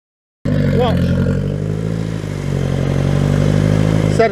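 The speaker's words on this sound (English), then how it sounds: "But you can hear this bloody horrible noisy engine with an exhaust leak at the front." An old car engine with an exhaust leak at the front and a dog food can fitted as an exhaust silencer starts up loud and rough, idling with a steady throbbing drone and a brief rev near the end.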